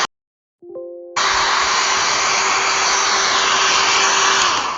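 A hair dryer dries modeling paste on a painting canvas: a brief rising motor whine, then a loud, steady, close blowing roar that holds for several seconds.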